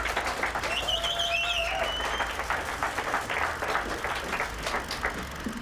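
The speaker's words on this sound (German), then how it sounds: "Applaus!" Audience applauding a film school student at a stage show, steady moderate clapping from a crowd heard at some distance, with a whistle rising briefly over it early on.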